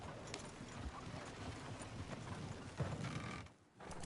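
Horse hooves clip-clopping in a video game, a steady busy trot under dense background ambience with creaks and mechanical clatter, continuous for a few seconds before a brief dip.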